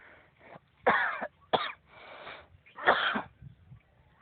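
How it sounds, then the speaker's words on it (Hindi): Several harsh coughs break out close by, in uneven bursts with short wheezy breaths between them, with no talking. "मुझे खांसी आ रही है।"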